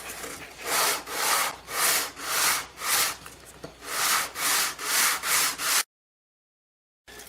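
A hand saw cuts a small wood piece to fit a mandolin fretboard with about nine steady back-and-forth strokes, close and clear, then stops abruptly into silence.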